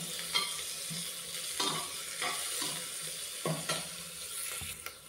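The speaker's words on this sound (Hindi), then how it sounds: "अब इसे हम थोड़ी देर भून लेंगे, ताकि अदरक और लहसुन का जो कच्चापन है वो ख़त्म हो जाए" Crushed ginger, garlic and slit green chillies frying in a pan, giving a steady close sizzle with repeated scraping stir strokes of a spoon against the pan, and no talking.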